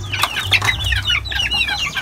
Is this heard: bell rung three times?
no